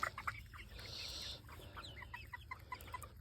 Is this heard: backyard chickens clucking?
yes